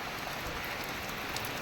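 Steady rain pours down on surfaces in a dense, continuous hiss, close and fairly loud, with no voices.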